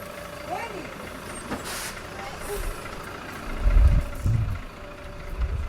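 A city night bus in Nice, France rumbles along with a low engine drone and heavier surges near the end, while faint conversation drifts in the background.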